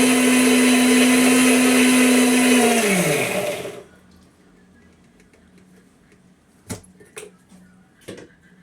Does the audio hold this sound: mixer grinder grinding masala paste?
yes